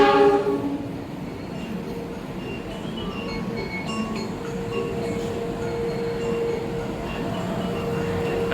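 A stainless steel passenger train, the Argo Bromo Anggrek, rolls past on Indonesian rails with a steady rumbling roar and faint metallic clinks that carry through the whole passage.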